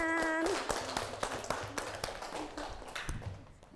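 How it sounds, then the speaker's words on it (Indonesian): Students in a classroom clap after a group presentation, a scattered burst of fairly close hand claps following a brief tone at the start, fading toward the end. "Ya, tepuk tangan."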